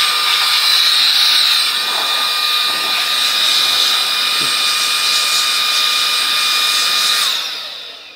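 A 3-in-1 handheld vacuum runs in blower mode, a loud steady high-pitched whine and rushing air held close for most of the stretch, then tapering off at the end as it winds down.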